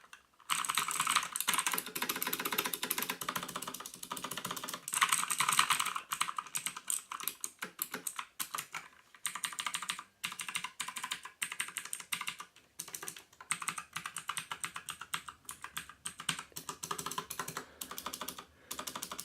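An EasySMX mechanical gaming keyboard is typed on steadily and up close, with rapid crisp key clicks in continuous bursts and brief pauses, and no voice.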